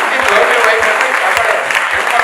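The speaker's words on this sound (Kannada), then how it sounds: "ಚಪ್ಪಾಳೆ ಹೊಡೀರಿ." A hall audience at a college talk claps in a full, close burst of applause that keeps going evenly, with a little crowd murmur underneath.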